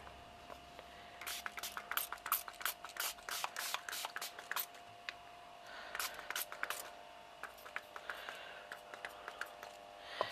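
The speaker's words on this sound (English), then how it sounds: "And just spray that again." A spray bottle hisses in quick bursts, a rapid series of short sprays with brief gaps, fairly close and quiet.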